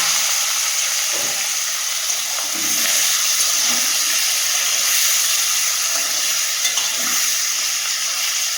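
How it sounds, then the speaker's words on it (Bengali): Fish frying in hot mustard oil seasoned with turmeric and salt in a wok, a steady loud hiss and crackle of sizzling that runs unbroken throughout, with no talking. "কড়াইতে আমি দিয়ে দেবো সর্ষের তেল, দিয়ে মাছটা ভেজে নেব"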